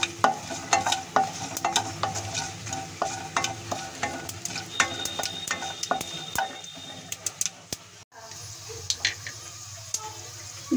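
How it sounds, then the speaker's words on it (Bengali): Chopped nuts frying in mustard oil crackle and spit while a utensil scrapes and stirs the pan in quick, irregular strokes; the sizzle drops out briefly near the end before resuming, with no talking. "কেটে রাখা বাদামগুলো আমি প্রথমেই দেব, একটু ফ্রাই করে নেব।"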